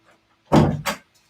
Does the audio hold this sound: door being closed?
yes